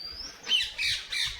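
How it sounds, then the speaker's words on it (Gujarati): A parrot squawks three times in quick succession, harsh, loud and close, with no one talking, during an outing to the Gopnath Mahadev temple area. "કેવો પોપટ બોલે છે."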